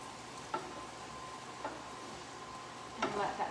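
A utensil stirs pasta and creamy ricotta sauce in a pan over a faint steady sizzle, with a few soft scraping clicks against the pan.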